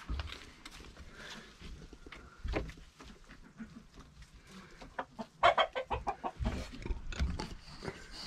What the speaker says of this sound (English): There's more of those chickens I was talking about.